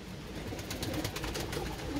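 White tumbler pigeons in a loft, adult parent birds cooing softly over a steady background hiss, with a few low murmuring calls and no speech.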